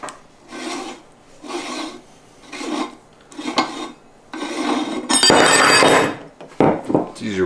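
The metal parts of a meat grinder's sausage stuffer attachment are taken apart by hand, giving close, loud scraping and grinding bursts in a repeating rhythm, then a harsh metallic rattle and clinks.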